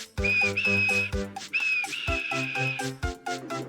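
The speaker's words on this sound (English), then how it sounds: "And he blew his whistle" A high, steady steam engine whistle sounds twice over a bouncy musical backing with a low pulsing rhythm, bright and prominent.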